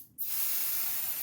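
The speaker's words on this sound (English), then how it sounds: "I'm going to go ahead, I'm going to spray it" Temporary adhesive spray hisses steadily from a can onto a shirt being prepared for embroidery in a magnetic hoop, starting abruptly after a brief pause and continuing loud and close without talk.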